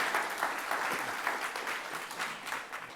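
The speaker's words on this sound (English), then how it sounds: "it's okay that you just clap for Ms. Damerla" An audience at a Mississauga mayoral housing debate claps for a candidate, a moderately quiet, even wash of applause that holds steady for a few seconds and thins slightly at the end.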